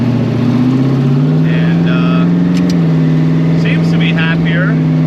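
A boosted drag car engine hums loud and near with a strong, steady tone that shifts pitch as it revs. Someone speaks briefly over the engine.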